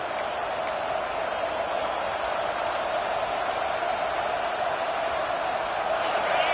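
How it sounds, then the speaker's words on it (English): A roaring crowd fills the stadium at an American football game as the home defense keeps the opponent pinned deep, a steady loud wash of cheering that swells slightly toward the end. "The roar of the crowd trying to fuel this defense to keep them pinned in their own end"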